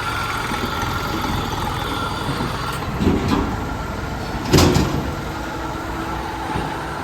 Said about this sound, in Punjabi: ਇਹ ਵੱਡਾ ਇੰਜਨ ਆ ਨਾ ਮਾੜੀ ਮੋਟੀ ਬਾਜ਼ ਕਰਦਾ ਹੀ ਹੁੰਦਾ